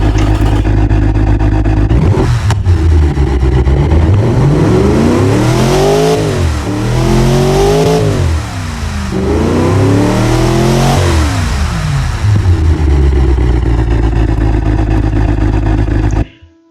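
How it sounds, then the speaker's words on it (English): A car engine fitted with headers and a straight-pipe exhaust, tuned as a high-performance engine in the Automation car-building game, revs up and down in several loud, rising and falling sweeps before cutting off abruptly. "As you can hear, the engine sounds much quieter, much like a high performance engine, not a racing engine."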